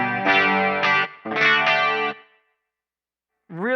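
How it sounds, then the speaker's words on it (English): A clean electric guitar through a Hughes & Kettner Switchblade amp plays ringing chords with a shimmering chorus effect, two strummed phrases that fade out before another note starts. "That is now my new clean, chorusy sound."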